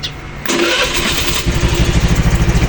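A Rusi Flex 125i motorcycle with a stalling problem cranks briefly and its engine catches, settling into a close, loud, steady idle with a rhythmic throb.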